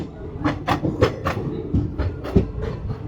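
Bhavnagar–Veraval passenger train 59558 rolls into Lusada station, its wheels knocking in a rhythmic series of sharp clickety-clack beats over a steady low rumble, heard from on board.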